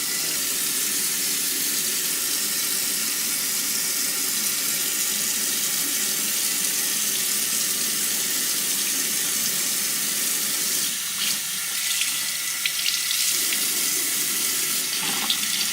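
Tap water pours steadily into a baby's first bath, a continuous loud hissing gush that stays even throughout, with a few faint knocks near the end and no talking.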